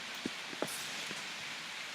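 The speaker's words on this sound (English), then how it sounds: "It's raining." Soft, steady rain falls outdoors as a faint, even hiss, with a few distinct drops landing nearby.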